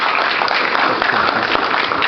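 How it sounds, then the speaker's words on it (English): Audience applause for a keynote speaker at a university entrepreneurship summit, a dense, loud, continuous patter of many hands throughout. "Can we have a huge round of applause for sir?"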